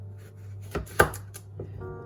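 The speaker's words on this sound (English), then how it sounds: "I like to slice it down the middle." A knife slices down the middle of a trimmed vegetable being cut into chunks for a vegan cheese sauce, giving two or three close, sharp cutting knocks on a board, the loudest about halfway through, with no talk.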